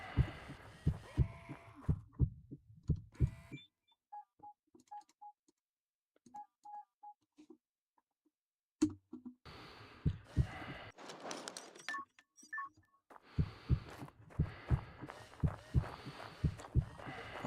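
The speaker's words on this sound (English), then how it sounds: "A heartbeat and that Oxygen noise" Heartbeat sound effect in the video game Occupy Mars: steady double thumps, fairly loud and close, with short beeping tones in a quiet stretch between them.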